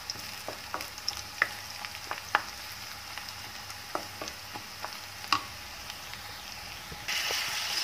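Ingredients for a mung bean and shrimp dish sauté in a pan, giving a soft steady sizzle with scattered light clicks of stirring, heard close and fairly quiet.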